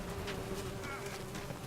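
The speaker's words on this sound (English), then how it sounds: "The bees." Bees buzzing in The Witcher 3 game, a steady close insect drone holding through the whole moment, with faint background game sounds.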